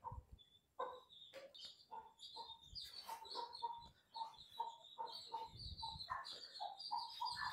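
Desi chicken chicks peep and chirp busily at close range in a home setting, with soft clucks and scuffling mixed in as a near-continuous chorus of high calls.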